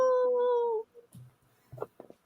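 A person imitates a wolf howl with a single drawn-out tonal howl lasting under a second, followed by quiet, faint vocal sounds.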